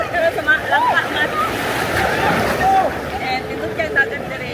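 Sea waves washing steadily onto the shore at Lanca, Mati City, Davao Oriental, a continuous mid-level wash with wind noise and faint chirping sounds over it.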